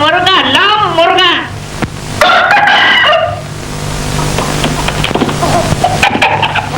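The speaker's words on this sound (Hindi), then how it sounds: "ये लो मुर्गा।" A rooster crows loudly and close by in a film scene, two long, wavering calls, with voices and crowd noise continuing afterward.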